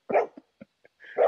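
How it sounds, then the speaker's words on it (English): A dog barks at squirrels from nearby, a short loud bark followed by a few faint yips and then another loud bark, with no talking. "we've got two dogs, and one of which is barking right now because they finally saw the squirrels"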